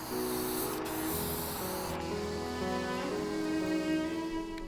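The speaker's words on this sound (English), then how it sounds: "I'll begin spraying on light coats of clear shellac." Clear shellac sprayed in light coats from a spray gun onto antique sewing machine parts, a steady close hiss running throughout with a faint tonal hum beneath.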